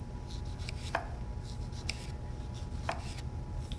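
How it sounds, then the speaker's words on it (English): Knife slicing fresh Roma tomatoes into thin rounds about 1/8 inch thick, giving a few sharp, separate cuts against a board over steady low kitchen background noise. "And then we're going to slice about 1/8 inch thick, just like that."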